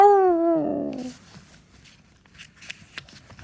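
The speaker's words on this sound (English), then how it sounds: "The dogs howl in their sleep." A single dog lets out a drawn-out, falling howl that trails into a whimper, followed by quiet shuffling and soft clicks.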